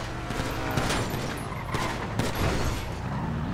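Gunfire in a video game sounds as a dense, continuous rattle of shots and bursts under a noisy background, steady and fairly loud throughout with no clear pauses.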